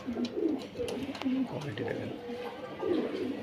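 Pigeons coo in repeated low rolling calls at a pigeon market, the birds close and steady throughout, with someone talking alongside them.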